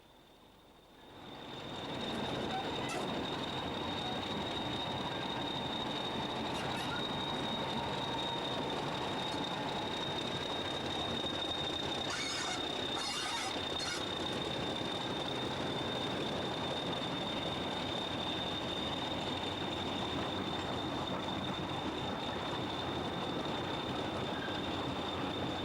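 A Class 40 diesel locomotive in BR blue pulling away from Swanwick toward Butterley, its engine rising from quiet into a sustained loud drone with a steady high whine and occasional squeals over the rumble of rolling wheels.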